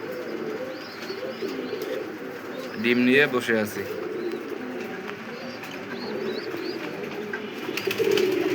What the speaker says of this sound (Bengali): দেখতে পাচ্ছেন অরিজিনাল কাগজি, কাগজি কবুতর